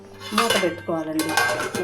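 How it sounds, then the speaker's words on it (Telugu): A metal lid set down on a cooking pot of mutton curry with cucumber pieces on the stove, giving a couple of close, sharp clanks and rattles of metal on metal. "మూత పెట్టుకోవాలండి."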